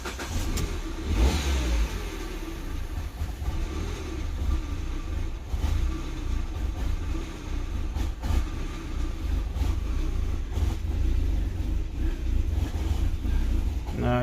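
A Peugeot 208 1.4 VTi engine runs rough with a stalling fault, giving off a steady, loud low rumble with uneven surges throughout and no talk over it.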